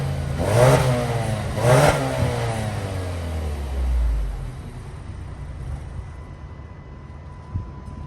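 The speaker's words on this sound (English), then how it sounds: "I'm gonna give it some revs so you can hear it." A Mazda fourth-generation turbo engine on its stock exhaust is revved twice in quick succession, each rev rising and falling loudly and close by. A longer rev follows and winds down to a steady idle.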